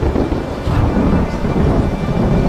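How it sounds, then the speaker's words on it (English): A thunderstorm rumbles with low, rolling thunder over steady heavy rain, loud and continuous without any voices. "A storm! It's breaking!"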